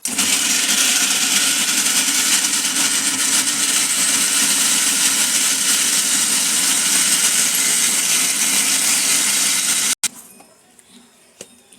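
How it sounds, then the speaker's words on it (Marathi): A mixer grinder blends onion and tomato into a gravy for a paneer and peas curry, giving a loud, steady, close motor roar that runs unbroken for about ten seconds and then cuts off abruptly into quiet. "आपण हे दोन्ही कांदा आणि टॅमॅटो ग्रेव्ही करून घ्यायची आहे मिक्सरला लावून"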